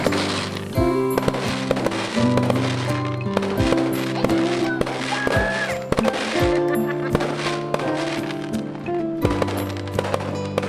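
Rapid bursts of fireworks crackling and popping in dense clusters, with tonal whistling streaks and sustained hums layered underneath, loud and continuous, at a rock concert in Gingoog City, Philippines.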